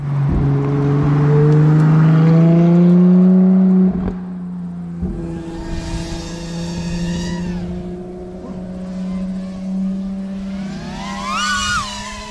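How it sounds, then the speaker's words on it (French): A lead scouting car drives along a road cleared for a Ferrari LaFerrari film shoot, its engine a steady loud drone with a strong low hum, fading slightly midway, while whirring tones rise in the background. "Là, c'est la première voiture de repérage qui vérifie qu'il n'y a personne sur la route."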